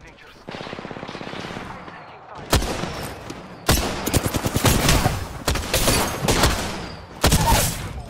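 Sustained automatic gunfire in Apex Legends, with rapid rattling bursts broken by short pauses and sharp, loud volleys, close and intense throughout.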